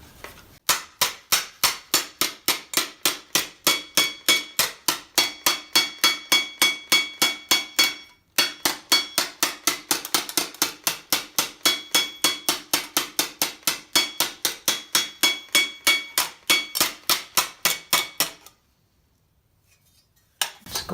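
A steel armor elbow is hammered on a slave anvil with rapid, evenly spaced metallic strikes, loud and close. The blows pause briefly around eight seconds, then run on steadily until stopping near the end.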